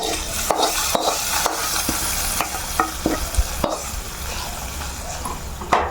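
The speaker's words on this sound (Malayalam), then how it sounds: "കടുക് വറുത്ത് തുളച്ചു കൊടുക്കുക" Mustard seeds sizzle and crackle in hot oil for tempering bitter gourd pachadi, a steady hiss broken by sharp popping bursts and a few light utensil clinks, close and alone with no talk.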